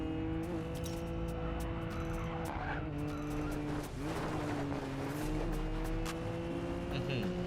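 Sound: Nissan Skyline GT-R R32 driving and skidding, Racing Master video game

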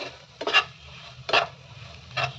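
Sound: stirring salt into egg podi in a pan

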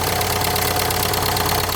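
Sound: car engine idling

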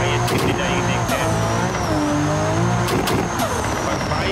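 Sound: Toyota Supra accelerating at high speed in BeamNG video game

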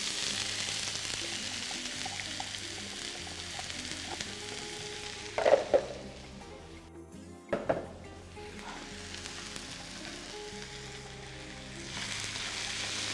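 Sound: onion frying in hot oil

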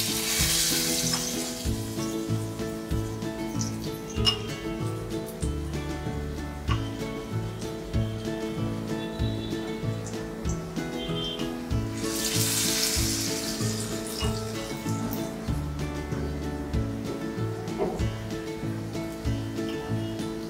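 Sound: surmai fish kebab batter shallow frying in hot oil

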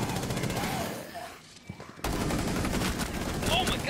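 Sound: pistol gunfire in a video game

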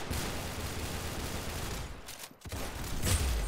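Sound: gunshot in Roblox Arsenal video game

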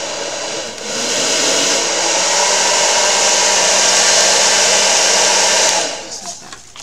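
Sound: heat tool heating oil pastel on mixed media art

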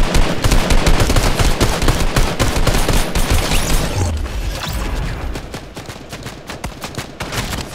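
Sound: gunfire in the video game Fortnite

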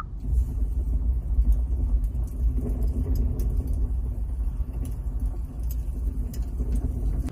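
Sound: warm fireplace ambient sound from Hyundai Sonata 2020 nature sounds

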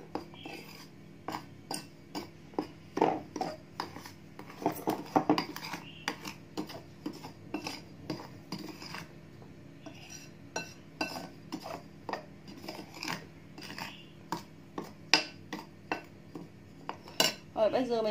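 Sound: mixing the black tapioca pearl mixture in a bowl

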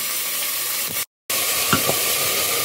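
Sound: vegetables frying in a pan for potato soup

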